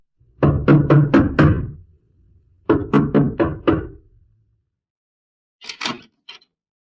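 Knocking on a door: two bursts of five quick, loud knocks in an even rhythm, separated by a pause, followed by a fainter, shorter pair of raps.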